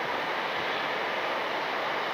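A jet airliner at night at Cleveland Hopkins airport, an Alaska Airlines plane in Xáat Kwáani livery, gives a steady, broadband roar with a windy, surf-like hiss, constant and fairly distant throughout.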